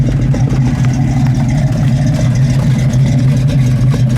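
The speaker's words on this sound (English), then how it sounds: "Dual exhaust sounds great on this monster." A loud, deep V8 engine, a built 351 Windsor in a 1965 Ford Mustang Fastback, rumbles steadily close by, a throaty dual-exhaust drone with slight pulsing revs throughout, no voices.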